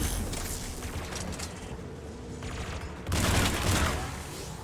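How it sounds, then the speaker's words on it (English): Anti-aircraft guns firing in the video game Mass Effect 3, a steady rumbling barrage of distant gunfire that swells louder in the last second and a half, with no talking. "There, anti-aircraft guns."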